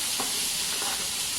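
Onion sizzles steadily in a pan with tomato and ginger for a restaurant-style paneer masala, a broad continuous hiss of frying with a couple of soft stirring scrapes, close and without talk.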